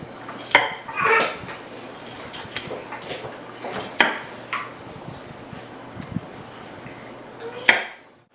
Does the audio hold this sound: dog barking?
no